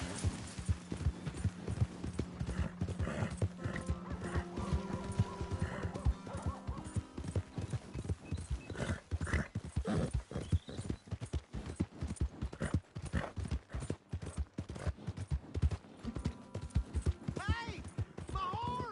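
Horse hooves clip-clop at a walk in Red Dead Redemption 2, a steady close rhythm of hoof falls with a horse whinny and a voice talking over it.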